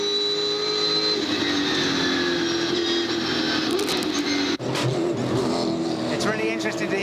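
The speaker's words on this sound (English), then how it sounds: "It's really interesting to hear him feathering on and off the throttle" Onboard the Mitre 10 Falcon V8 race car at Bathurst in 1999, the engine roars loud and close as the driver feathers the throttle on and off, with a sharp break near the middle and commentary over the top.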